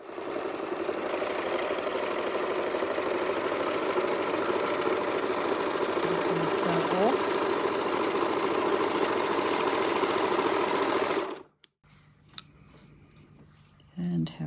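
Serger sewing machine test-stitching a rolled hem on fabric, a fast rattling mechanical whir running steadily for about eleven seconds before stopping abruptly, followed by a few faint handling clicks.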